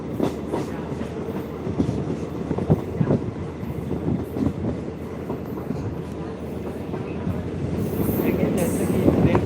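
A train rolls along the tracks on the Bajpatti to Muzaffarpur route, its steady rumble and rattle continuous and close, swelling slightly louder toward the end.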